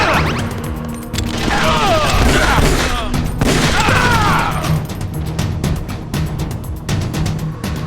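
Loud, dense gunfire and crashing impacts in Metal Gear Solid: Twin Snakes, with rapid bursts and sharp hits continuing to the end alongside game sounds.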